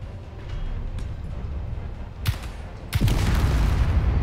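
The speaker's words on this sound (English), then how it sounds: "Oh, that was an explosion." Explosions in the game Space Engineers near a ship and a bridge with guns, a steady rumbling background broken by two sharp blasts, the second launching into a louder, sustained roar.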